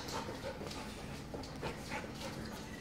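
A golden retriever makes soft, faint whimpers and breathy pants close by, in short irregular bursts over a quiet indoor background.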